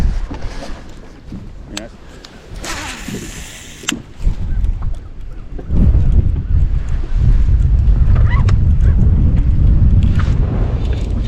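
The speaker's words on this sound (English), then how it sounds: "but wind's blowing it all around" Wind gusting across Star Lake beside a fishing boat: a low, blustery rumble that builds to steady buffeting on the microphone, with faint knocks and rustles of gear and a flapping jacket throughout.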